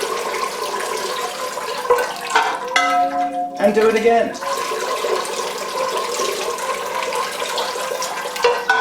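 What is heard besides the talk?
water poured into a Phalaenopsis orchid pot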